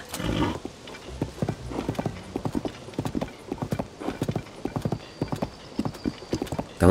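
A horse in the Zelda: Tears of the Kingdom video game trots with a steady, rhythmic clip-clop of hooves, and a whinny sounds at the start over light background ambience.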